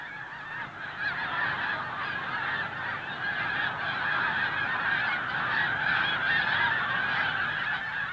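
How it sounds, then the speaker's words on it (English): A large flock of snow geese honks continuously while gliding in to land on a grain field, overlapping calls forming a dense, steady chorus at moderate distance. "the geese start to plane in"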